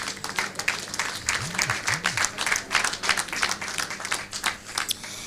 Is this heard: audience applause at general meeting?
yes